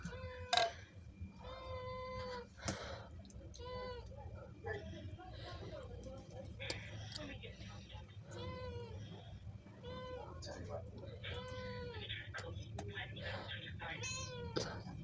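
A cat in a home kitchen meows again and again over the smell of homemade pizza sauce, with short insistent cries coming every second or so beneath soft talking.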